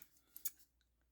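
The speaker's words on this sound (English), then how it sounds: "Sorry for the noise of my scissors." A few quick snips of scissors with a plastic handle cut through paper while a booklet is being made, sounding close, short and fairly faint, with no talking.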